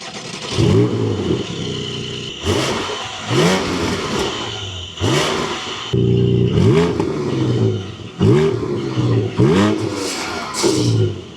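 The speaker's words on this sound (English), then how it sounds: "I need to do a sound check of the car. First we'll do it with the valves closed and then the valves open." A Porsche 718 Cayman GT4 with its exhaust valves closed is revved repeatedly, several sharp rises and falls in engine pitch heard close and loud, each blip dropping back to a burbling idle.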